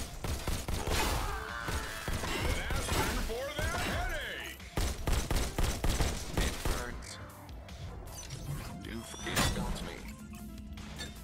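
Energy rifle fire in Robo Recall comes as dense volleys of sharp zapping shots mixed with crashes and impacts, loud and close throughout, while a voice talks over parts of it.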